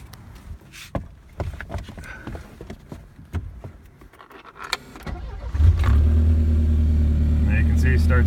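A 1980 Saab 900 GLi engine cranks and catches after some clicks and handling noises, then settles into a steady, loud idle with a low hum, while someone talks over the start.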